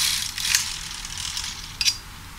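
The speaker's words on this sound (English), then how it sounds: "I thread the machine and knit one row from left to right." Knitting machine carriage sliding across one row, a faint rasping glide with a few light clicks and taps near the start and end.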